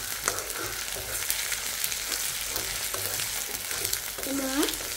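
Ginger-garlic paste hits onions already frying in a pan for a fish-roe dish, giving a steady close sizzle with stirring clicks and scrapes throughout, without talk.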